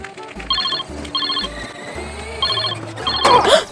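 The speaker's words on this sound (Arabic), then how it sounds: "تليفوني عم يرن، خلينا نشوف مين." A telephone rings in repeated short electronic bursts, close and clear, alone with no talking, amid a children's play scene about a stolen ice cream.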